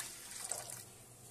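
Water running into a pot for sugar syrup, a brief steady splashing pour heard close and alone.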